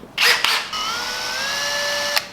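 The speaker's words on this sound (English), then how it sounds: "I'm gonna drill a hole" A small power drill bores a hole into a tiny handmade fishing lure body held in the hand, giving a brief loud burst as the bit bites, then a steady rising whine that runs for over a second before stopping abruptly.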